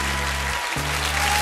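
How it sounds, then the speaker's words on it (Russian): Studio audience applause on a Russian TV game show (Field of Miracles style) celebrating a super-game win, a steady dense clapping wash with low tonal music underneath, briefly dipping in the middle. "Эти аплодисменты вам!"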